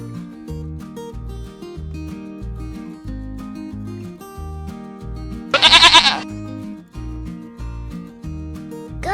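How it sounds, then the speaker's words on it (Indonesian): A goat lets out a short, wavering bleat midway, brief and fairly loud over a steady, rhythmic music track that plays throughout. "goat,"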